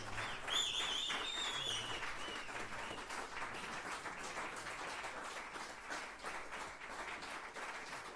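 An audience at a Yamaha studio in New York applauds the American Pianists Awards finalists, sustained dense clapping heard at a distance, fairly faint and unbroken, with a few whoops rising briefly near the start.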